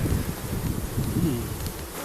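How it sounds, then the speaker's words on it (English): Steady, dense buzzing of many bees droning continuously up close in an open hive, with no voices. "Loads of bees though."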